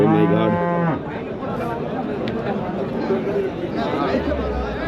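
Cattle moo loudly and close at the Anthiyur cattle market during the Pongal season, a long low call standing out over steady crowd chatter and people talking nearby.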